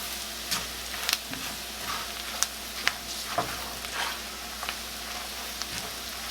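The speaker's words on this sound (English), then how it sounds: "I'm going to cook this for about a minute just to bloom all of the spices" Spices blooming in hot fat in a pan, a steady close sizzle with occasional light clicks and scrapes as they are stirred around, no voices.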